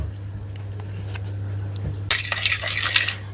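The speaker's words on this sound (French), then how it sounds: "Je mélange le tout." Eggs and skyr are mixed in a bowl, beginning quietly over a steady low hum and then turning into rapid clinking and scraping of a utensil against the bowl for the final second or so.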